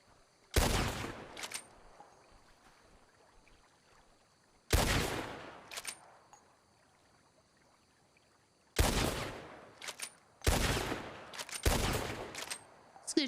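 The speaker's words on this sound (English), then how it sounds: "Just gonna shoot blindly in the air." Gunshots are fired into the air in a WildRP video game, loud sharp bursts in several separate groups of one to three reports with quiet gaps between them.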